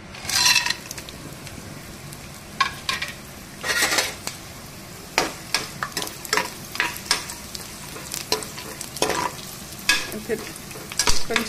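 Frying in ghee in a pan while making a coconut sweet: a steady soft sizzle under repeated sharp scrapes and clinks of a spoon stirring against the pan, no talking.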